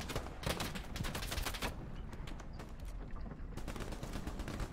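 Rifle fire in a video game infantry battle, aimed at an enemy machine gunner: dense, rapid volleys of overlapping shots from several guns, loud and continuous with brief lulls.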